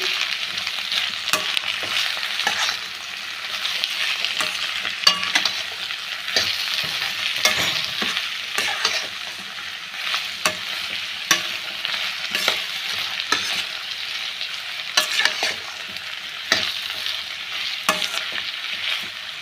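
Ivy gourd stir-fry with masala powder is stirred in a pan, a spoon scraping and tapping in an irregular rhythm over a soft steady sizzle, close and moderate in level, with no talking.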